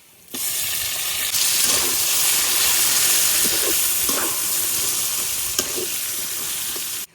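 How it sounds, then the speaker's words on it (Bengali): Wild taro greens dropped into hot oil with fried chopped onion and garlic hiss and sizzle loudly and steadily from start to finish, with a few soft stirring knocks. "এখন আমি শাকটা দিয়ে দিই।"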